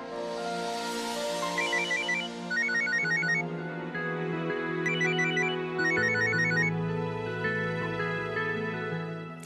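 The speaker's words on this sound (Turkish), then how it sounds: "Galiba kocan arıyor." A mobile phone ringtone plays a repeating melodic pattern of bright chimes in short bursts, loud and close, over steady music with no talking.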